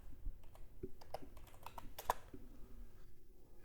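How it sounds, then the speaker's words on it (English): A computer keyboard clatters as a command is typed at a Windows command prompt, a quick run of close, crisp key clicks with a louder tap near the end, alone with no talking. "let's type the Docker space dash version"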